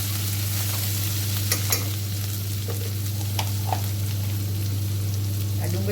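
Potato and capsicum sabzi with turmeric stirred in a pan over a low gas flame, a steady loud sizzle with scraping strokes of the spoon on top and a constant low hum underneath.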